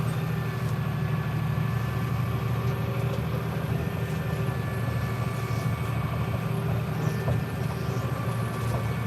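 Tractor engine running steadily while baling hay with a square baler, a constant loud droning hum with mechanical clatter, continuous and unbroken without talk.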